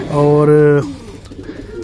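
A pigeon coos once, a loud, close, throaty call lasting under a second, followed by a brief spoken word and quiet background.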